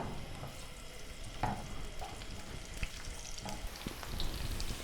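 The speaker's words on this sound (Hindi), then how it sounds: "इसको हमने थोड़ा सा सौते कर लेना है" Onion sautéing in oil for chicken haleem, a steady soft sizzle with a few light stirring scrapes, heard close and fairly quiet.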